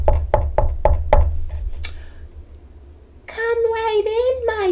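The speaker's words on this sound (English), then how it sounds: "she knocked on the door" Five quick, evenly spaced knocks on a door, loud and close, then a pause before a narrator's voice takes over, part of a Little Red Riding Hood story reading.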